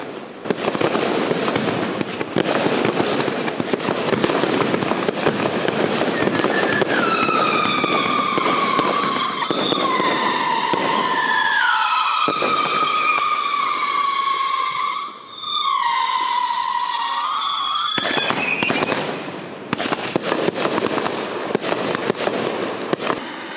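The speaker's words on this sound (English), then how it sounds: "Next up, we got the UFO Attack XL. This is an aerial finale set with flying UFOs." A UFO Attack XL aerial finale firework set fires flying UFOs: dense crackling bursts and pops surround long, wavering, siren-like whistles that climb and overlap, loud and close, with a brief lull before another crackling barrage.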